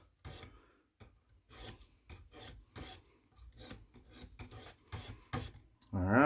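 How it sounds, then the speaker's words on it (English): A knife edge pushed in repeated strokes across a sharpening stone, a dozen or so short, close rasping scrapes in a steady rhythm separated by brief pauses. "So we're going to do those end of the edge push strokes"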